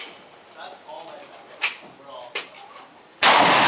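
A Desert Eagle .50, a big Israeli-made handgun, fires one loud, sharp blast close by near the end, after quieter talking in Cantonese and a couple of softer clacks.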